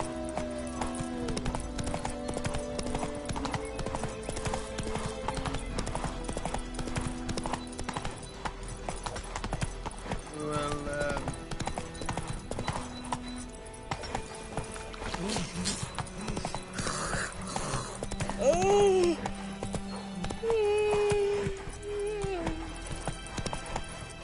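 Horse hooves clip-clopping and a horse whinnying in The Witcher 3 video game, a steady trot with a sharp neigh near the end, heard under game music and occasional talk.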